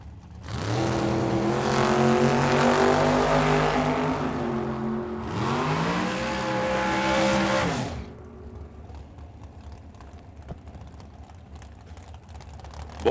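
A dragster and a junior drag racing car at a track-side drag strip event, two loud engine roars rising in pitch, the second sweeping higher before cutting off, followed by quieter fading rumble.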